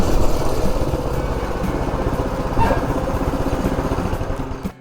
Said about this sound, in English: So the bike runs pretty good.